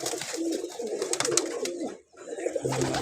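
Soft, throaty cooing of male pigeons nearby, repeated murmuring calls with a short pause before resuming.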